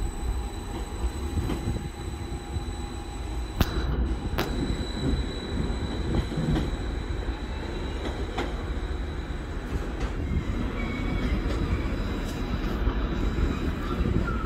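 Diesel passenger train pulling out of Lowestoft station bound for Norwich, a steady broad rumble of engine and rolling wheels holding for the whole stretch, with faint squeals and a couple of sharp clanks, close by and without talk.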